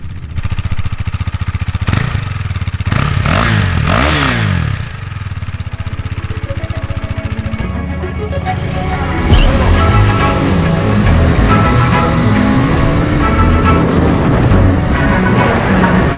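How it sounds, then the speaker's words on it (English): A small motorcycle with a stock exhaust revs alone at close range, its engine tone rising and falling in several blips before settling into a steadier, higher-revving drone. "the tone of the exhaust isn't half bad at higher revs"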